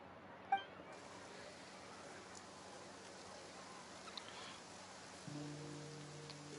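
Steady rain falls across a Fontaine scene in Genshin Impact, a continuous soft wash of drops with a brief clink near the start and a low droning tone rising near the end.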